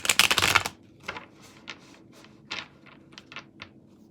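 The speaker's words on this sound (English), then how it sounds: "We're going to shuffle and see what happens." Playing cards shuffled in one quick riffle burst at the start, followed by a series of soft, separate card taps and slides spaced out over a quiet background.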